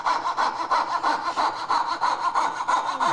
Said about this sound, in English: turn the saw, and I'm going to cut as close as I can get to that yellow